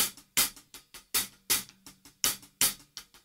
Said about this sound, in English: you could also accent the first two rights and the first two lefts